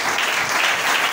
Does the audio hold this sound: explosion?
no